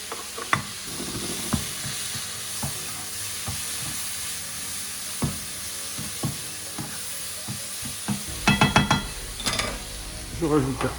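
Shrimp frying in yellow curry sizzles steadily in a pan while a utensil stirs it, giving soft scraping strokes and a few sharper clinks and spatters near the end.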